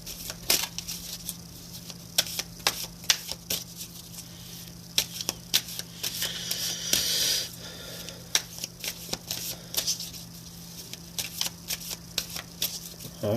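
Angel Prayer oracle cards shuffled for a five-card spread, giving a steady run of close, crisp riffling flicks and soft slaps, repeating irregularly over a faint low hum with no talking.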